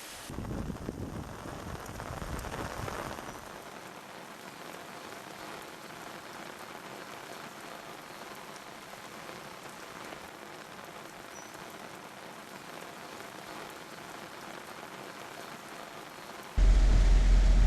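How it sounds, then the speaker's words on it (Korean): Steady rain and showers from a typhoon falling in Pyongyang, a dense, continuous hiss of rain on surfaces that grows louder and fuller at the start and again in a sudden surge at the end. "전반적 지역에 구름이 많이 끼면서 비와 소낙비가 내렸습니다"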